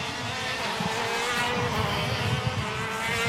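A KZ2 racing kart engine screams continuously during a race, a high, buzzing two-stroke drone held at steady pitch with slight rises and falls, loud and close throughout.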